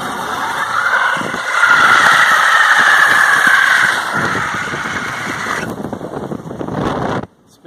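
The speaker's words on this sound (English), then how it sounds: "Spins rubber, lays rubber as long as I want." An electric Honda CRX lays rubber with its tires squealing in a loud, sustained shriek for several seconds, mixed with wind buffeting, before the squeal drops away and cuts off.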